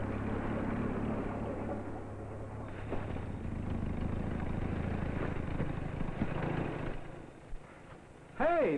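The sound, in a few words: tractor engine running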